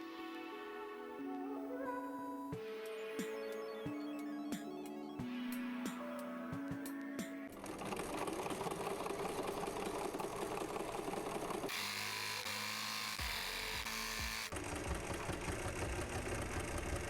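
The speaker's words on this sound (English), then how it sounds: "So now I'm going to sew these right sides together and top stitch" A sewing machine top stitches a seam on fabric from upcycled trousers, a steady whirring hum with stops and restarts, then a continuous louder run, close and without talk.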